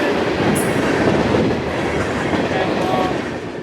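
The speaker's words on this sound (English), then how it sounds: "The two SpongeBob SquareCab SD40-3s leading the train provide a nice break from the monotony of GE Evolution" CSX freight train Q453, led by two SD40-3 locomotives, rumbling past close by, with a steady heavy roar of wheels and rattling cars and a brief high squeal near the start.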